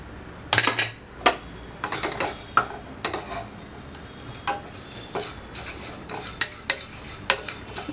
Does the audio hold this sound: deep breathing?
no